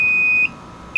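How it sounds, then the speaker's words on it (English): Low alarm on a digital humidity controller: a loud, steady high-pitched electronic beep that holds, drops away briefly, then starts again, with no talking. "Now it's having the low alarm."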